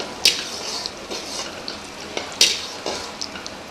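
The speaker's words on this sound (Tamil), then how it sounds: "முந்திரி திராட்சை நல்லா வறுத்தாச்சு" Cashews and raisins fry in ghee for temple sweet pongal, a soft sizzle broken by sharp clinks and scrapes of a spoon stirring against the pan.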